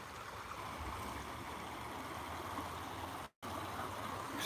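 A river rushes in a steady, broadband roar that is loud and close outdoors. It continues without a break except for a brief dropout near the end, and no one speaks.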